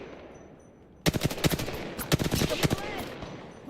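Rapid automatic gunfire in the battle-royale shooter Apex Legends during a ranked ALGS match, a burst of sharp close shots after a quiet second, continuing in uneven volleys.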